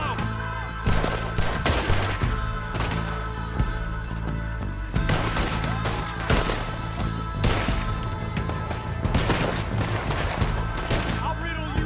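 Gunfire in Red Dead Redemption 2, with dense, loud volleys of shots and thuds rolling continuously through the whole stretch, and some voices mixed in among the blasts.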